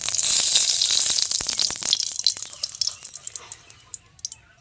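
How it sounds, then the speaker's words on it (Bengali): Oil poured into a hot kadai hisses loudly at first, then settles into a softer sizzle with scattered small pops and crackles, heard close up. "কড়াই গরম হয়ে গেছে, এই যে তেল দিয়ে দিলাম।"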